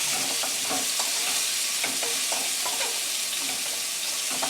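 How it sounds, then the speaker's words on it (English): Basmati rice stirred through onions in hot oil, a steady dense sizzle with repeated scraping strokes of the spoon in the pan, close and continuous, with no talking. "I'm going to add a cup of rice. This is the basmati rice here with the onions."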